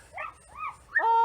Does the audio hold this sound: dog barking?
yes